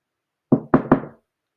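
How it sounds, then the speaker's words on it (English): Three sharp knocks land on a wooden door in a quick even rhythm, close and loud against silence, each with a short resonant decay. "a knock sounded on his door"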